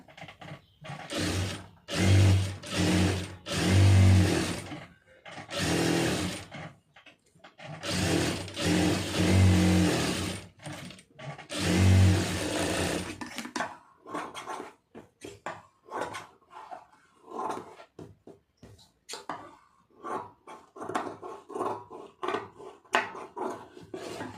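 A sewing machine stitches the edge of a lining piece on a blouse in several loud, rapid bursts of running motor and needle chatter during the first half. Quieter handling clicks and rustles of fabric follow.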